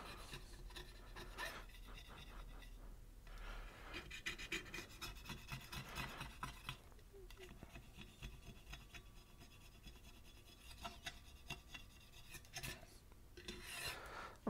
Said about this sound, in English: I'll just scrape off the excess